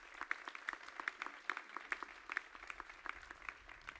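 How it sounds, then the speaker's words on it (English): Audience applause at the grand opening ceremony of a Walt Disney Archives treasures exhibit: a steady patter of many hands clapping from a crowd at moderate distance, continuous with no talk over it. "They deserve a round of applause as well."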